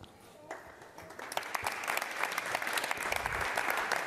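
Applause from an audience at a talk on under-8 basketball coaching grows from scattered claps into steady clapping that fills the clip, with some voices mixed in.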